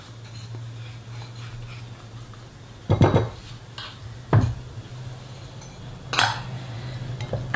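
A whisk or spoon knocks against a bowl while egg yolks, sugar and cornstarch are mixed for a Christmas praliné cream, giving a few sharp clinks spaced several seconds apart over a steady low hum, with no talking.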